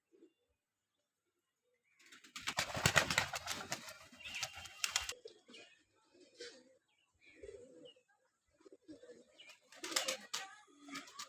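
Pigeons cooing in short bursts at close range, with a denser stretch early on and scattered softer coos and rustles after, fairly quiet overall.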